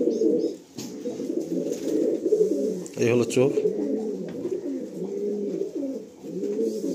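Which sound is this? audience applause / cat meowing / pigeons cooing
pigeons cooing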